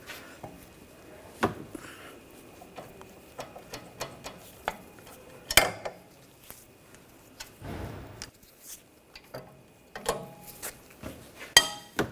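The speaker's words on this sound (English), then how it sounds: "Using a E18 socket, we're going to take these bolts out for the caliper bracket." Socket ratchet with an E18 socket removing the rear brake caliper bracket bolts on a 2007-2013 BMW X5, heard as sparse close clicks, metallic clinks and short ratcheting bursts separated by quiet gaps.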